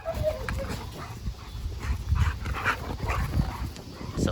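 Dogo Argentino dogs play roughly close by, one female yipping, whimpering and growling in rapid bursts over scuffling paws and dusty movement, while a person mutters softly in the background.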